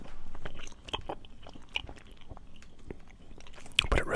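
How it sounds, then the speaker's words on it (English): Close, intimate gum chewing for ASMR, with soft wet smacks and clicks repeating irregularly near the mic, ending with a louder crunchy burst. "The other thing I do very frequently on pretty much every video is chew some gum"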